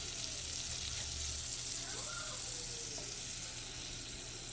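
Butter sizzles in a skillet while a grilled cheese sandwich cooks, giving a steady, close frying hiss with faint crackle that holds evenly throughout, with no talking.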